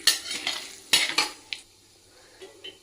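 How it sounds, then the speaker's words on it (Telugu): Chana dal and urad dal fry in a pan with a few quick scraping stirs of a spoon near the start, then a soft crackle and sizzle that tapers off. "ఇప్పుడు అది అయ్యేట్లు మినప్పప్పు కొంచెం వేసుకొనేసి ఫ్రై చేసుకునేస్తాం."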